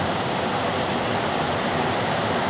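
A river swollen by flooding during a typhoon roars continuously. The rushing water forms a dense, steady, loud wash of noise with no breaks and no voices.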